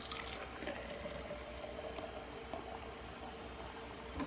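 A wee heavy Scotch ale is poured into a glass, a faint continuous fizzing and gurgling of liquid and foam, quiet and steady with no one talking.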